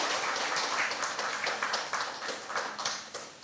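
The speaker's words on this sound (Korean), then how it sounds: "박수로 환영하겠습니다." Applause from a seminar audience welcoming newcomers, steady scattered hand clapping from a group of people, moderately loud and continuous throughout.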